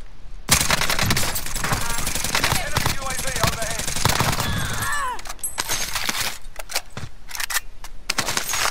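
Dense video game gunfire from an online squad shooter fills the stretch, with rapid automatic bursts and sharp single cracks layered over one another, while players talk intermittently underneath.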